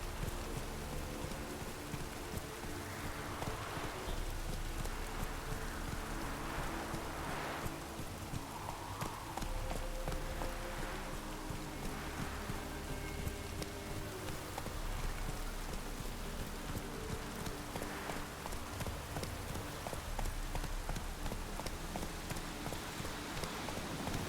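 Steady rain falls in The Witcher 3 video game, a constant dense hiss of drops with soft hoofbeats and faint ambient game sounds mixed underneath, no talking.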